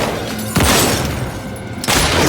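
Gunfire during a video game cutscene: two loud, sharp shots about a second apart, each followed by a booming wash of sound that fills the short stretch.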